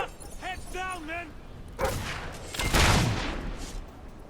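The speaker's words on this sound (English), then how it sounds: "We're under fire! Heads down, men!" Gunfire in Fable 3, a dense volley of shots and blasts rising after a brief shout, loud and close with battle noise layered over it.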